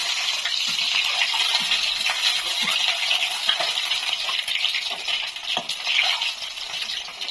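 Eggs frying in a pan on a home stove, a steady bright sizzle and crackle with scattered small pops and spatter, close and continuous, with no talking.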